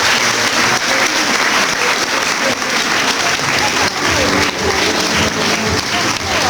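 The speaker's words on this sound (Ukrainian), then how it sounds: "Привітаємо оплесками цих вчителів." A school anniversary gathering in Kyiv breaks into loud, sustained applause for honoured teachers, dense clapping throughout with some voices mixed in.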